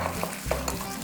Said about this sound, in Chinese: 现在放入3克的酵母，大约是半茶匙，1茶匙的糖，半茶匙的盐，把它搅拌均匀。